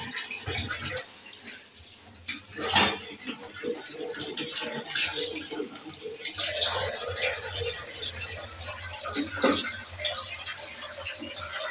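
Tap water runs and splashes while garlic cloves are washed in a kitchen, a steady, fairly soft rush with shifting splashes and handling noises.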